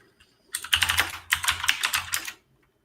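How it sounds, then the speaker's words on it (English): Someone types on a computer keyboard in two rapid, close bursts of crisp key clicks with a short pause between them and no talking. "You can hear him typing"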